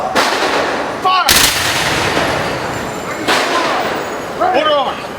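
A rifle squad fires ceremonial volleys at a Lincoln's Birthday observance at the Union League in Philadelphia: two loud, crisp volley cracks a couple of seconds apart, with shouted drill commands around them.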